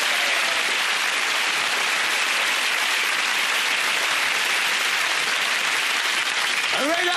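Studio audience applause fills the room on a 1990 Blankety Blank game show with Les Dawson, a dense, steady wash of clapping that holds loud and even throughout, alone without talk.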